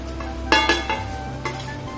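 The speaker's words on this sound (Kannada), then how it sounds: "ಒಮ್ಮೆ ಚೆನ್ನಾಗಿ ಫ್ರೈ ಮಾಡಿಕೊಳ್ಳ" Cinnamon, cloves, cardamom, mace, bay leaf, star anise, onion and green chillies frying in a pan for prawn biryani: a soft steady sizzle under a few clinks and scrapes of a spoon stirring against the metal.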